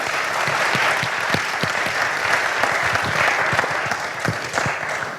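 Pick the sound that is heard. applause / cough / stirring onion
applause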